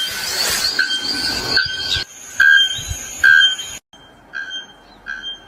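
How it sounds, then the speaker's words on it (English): A white bellbird gives several loud, piercing metallic calls in short bursts with pauses between them, close and ringing over a hissing background. "White bellbird."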